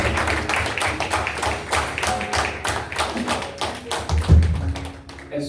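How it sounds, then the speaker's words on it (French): A church congregation at a Church of the Nazarene service claps together, a dense run of sharp, rhythmic hand claps that fills the room, with a low thump near the end. "Pas de visiteurs, on applaudit la présence du Seigneur."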